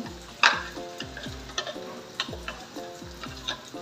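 Masala stirred into hot sizzling oil for a mushi catfish curry, with a steady rhythm of spatula strokes scraping the pan about twice a second over a continuous frying hiss.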